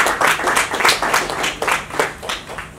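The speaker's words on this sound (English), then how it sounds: "A big round of applause for our partners" A round of applause at a corporate launch event thanks the event partners, with dense overlapping claps in rolling bursts that rise and fall over several seconds.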